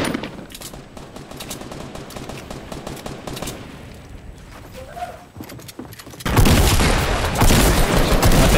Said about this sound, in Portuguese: Tem mais tiro rolando aí, tem mais um time vindo.